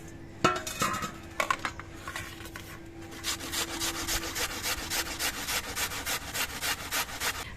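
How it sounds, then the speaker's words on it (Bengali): Potatoes are rubbed against a grater over a metal plate, first in a few scattered scrapes and then in a fast, even run of rasping strokes, close and loud with no talk. "ওটা আমার গামলার মধ্যে ঘষতে অসুবিধা হচ্ছে আমি থালার মধ্যে নিয়েই ঘষছি"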